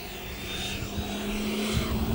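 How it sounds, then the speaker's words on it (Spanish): Argentine Federal Police helicopter with rotor blades turning, a steady droning engine and rotor hum with a constant low tone, loud and continuous throughout with no voices. "en un helicóptero de última generación"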